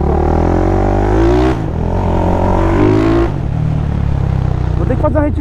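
A remapped Start 470cc motorcycle roars hard on an avenue, revving loud and steady through gear changes, close and continuous with a voice talking over it.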